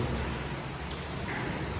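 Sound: heavy rain

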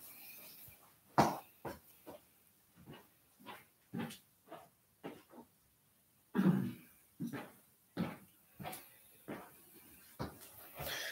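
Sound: coughing

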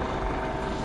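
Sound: helicopter approaching

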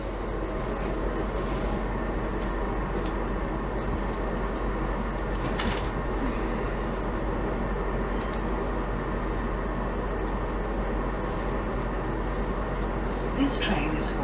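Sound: train running, heard from onboard

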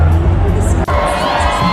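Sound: crowd clapping and cheering as the band arrives at a concert

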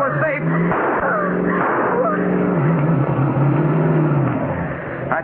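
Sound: car driving fast across lawns and fields, radio drama effect

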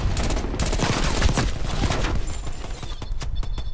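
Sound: gunfire in the video game Black Ops Cold War

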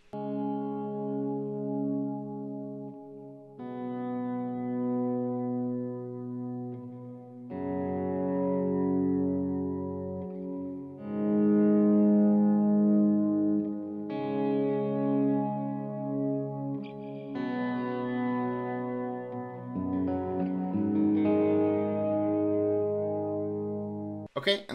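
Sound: swell effect on Source Audio Collider pedal

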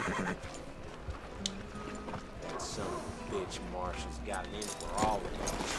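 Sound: horse whinnying in a video game

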